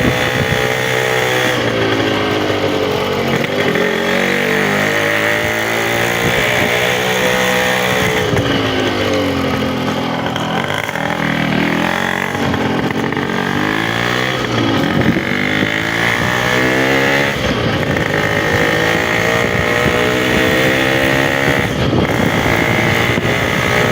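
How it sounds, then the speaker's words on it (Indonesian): Loud, continuous exhaust rumble from an old Yamaha RX-King motorcycle, revving up and down in waves, close to the microphone for the whole stretch. "Suara knalpot."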